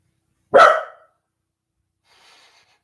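One sharp, loud dog bark close by, then silence and a faint breathy rustle afterward, all heard without any talking.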